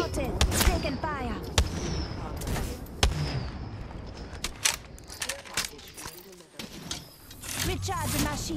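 Gunfire in an Apex Legends match, with bursts and single sharp shots popping over continuous game effects and background sound, while a player talks throughout.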